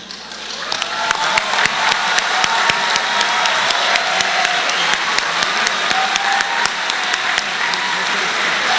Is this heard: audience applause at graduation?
yes